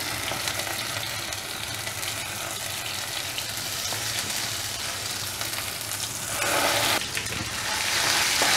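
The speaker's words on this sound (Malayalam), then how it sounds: "ഓയിൽ സെപ്പറേറ്റ് ആകുന്നിടം വരെ ഈ മസാല നമുക്ക് ഫ്രൈ ചെയ്യണം" Ground masala frying with small onions on low-medium flame for a Kottayam-style fish curry, a continuous dense sizzle and bubbling with stirring scrapes, growing louder near the end, no one talking.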